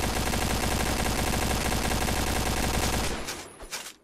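A video game gun fires a full magazine in one long, rapid, unbroken stream of loud shots, then cuts off with a few scattered clicks and thuds as the firing ends.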